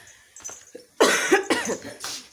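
A woman coughs at home near a kitchen, starting with faint throat sounds and then a loud close burst of about three harsh coughs.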